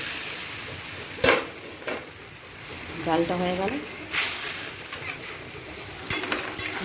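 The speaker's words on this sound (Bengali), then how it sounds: "আর এখানটায় ভাজাটা হচ্ছে" Vegetables frying in a pan in a home kitchen, with a pot of dal cooking alongside, give a steady close sizzling hiss broken by a few sharp utensil clinks, while a voice speaks briefly over it.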